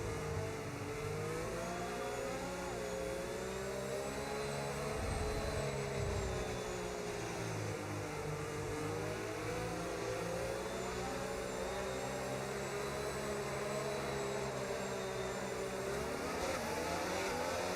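Race car engines at the restart of the Mexican Grand Prix in a racing video game: a continuous high, buzzing engine drone that swells and falls as the cars pull away, with whining tones laid over it.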